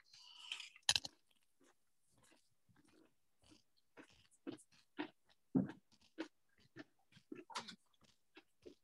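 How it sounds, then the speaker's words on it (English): Crackers being chewed close up in a quiet library setting, a series of sharp crunches and softer mastication sounds spaced irregularly over several seconds, with a brief bite near the start. "if you don't like chewing, just go ahead and mute it for a moment here."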